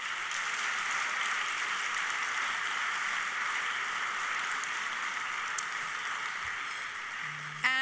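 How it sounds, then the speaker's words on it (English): Even, distant-sounding applause from guests at a benefit dinner, a soft continuous patter of many hands that carries on for about eight seconds before a brief tonal sound at the end. "Round of applause."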